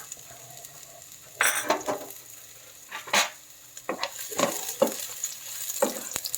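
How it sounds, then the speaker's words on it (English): Chopped garlic sizzles in a hot pan under a constant low hiss, with sharp bursts of stirring and clinking utensils at irregular intervals close by. "So first we throw in the chopped garlic, let it cook a little."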